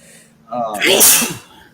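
One loud sneeze, very close, with a quick intake of breath just before the burst.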